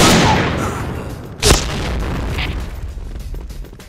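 A bomb in the shooter game Point Blank goes off with a heavy rumbling boom that fades out, followed by a sharp, close single blast and a faint lingering tail.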